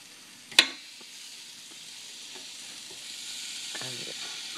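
Sweet baby pork chops sizzle on a grill as they are flipped: a sharp clatter near the start, then a steady, close, crackling hiss that carries on without talk.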